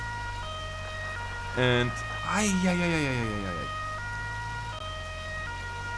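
An emergency vehicle siren in Industrial Firefighter Simulator wails steadily in the background, with a brief horn blast and a voice speaking over part of it, sustained and moderately loud throughout.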